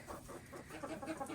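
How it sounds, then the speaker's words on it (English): Several chickens of mixed breeds cluck and murmur together in a backyard coop in winter, a steady close chatter of overlapping soft calls with no talking. "So I got a variety of chickens."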